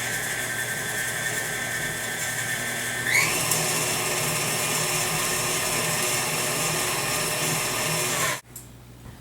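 An electric mixer whirs through peanut butter cookie batter with milk and an egg, a steady close motor drone that shifts pitch partway through and then cuts off abruptly.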